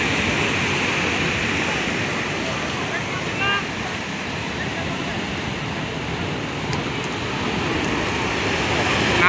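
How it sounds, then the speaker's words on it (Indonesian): Rough ocean waves surge against the shore at Tanah Lot in Bali, a continuous heavy roar of surf mixed with wind buffeting, loud and unbroken. "Ngamuk, ombaknya ngamuk mulai pasang."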